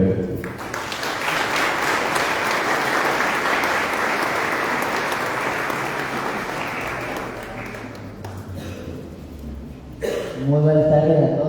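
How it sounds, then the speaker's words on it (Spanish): An audience at a cultural folklore and traditions talk applauds loudly and steadily for about eight seconds, then the clapping fades as a voice starts speaking near the end. "Un fuerte aplauso para él."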